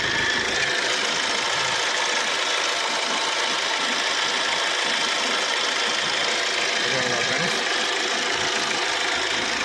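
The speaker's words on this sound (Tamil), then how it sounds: "வண்டி இன்ஜின் நாய்ஸை கேட்டுக்கோங்க." A 2008 Maruti Suzuki Swift Dzire car engine idles steadily and loudly up close, a constant mechanical hum with faint ticking, no voices.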